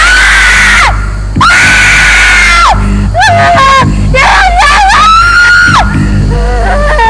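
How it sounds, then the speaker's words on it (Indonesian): People scream and yell from inside a haunted building in Garut, a run of loud, drawn-out shrieks and wavering wails that overlap and repeat, close and harsh over a steady low hum. "kita hanya mendengarkan teriakan-teriakan dari dalam nih"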